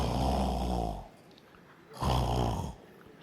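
A person snores loudly and close by, two long rasping rumbles with a quiet breath pause between them.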